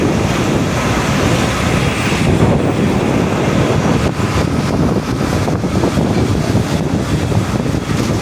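Steady roar of sea surf at Ratnagiri with heavy wind buffeting the microphone, loud and continuous with no voices.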